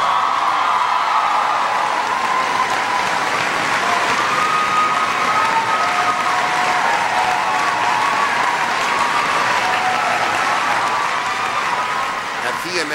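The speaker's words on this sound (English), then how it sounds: "It was hysterical applause." Sustained crowd applause with cheering and whoops during a political speech on staying on parents' insurance until age 26, loud and continuous with a hint of chanted voices inside the roar, then easing off at the close.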